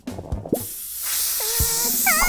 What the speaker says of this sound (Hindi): ज्यादा हवा ना भर।